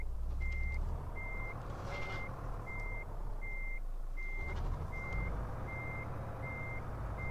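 Repeated evenly spaced reversing beeps from a lorry in Euro Truck Simulator, about ten steady tones over an idling truck engine rumble, with no talk.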